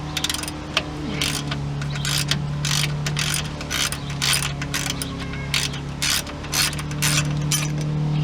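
A ratchet removing bolts from the front shock of a Ford F150, rapid clicking strokes in repeated bursts, close and loud over a steady background hum.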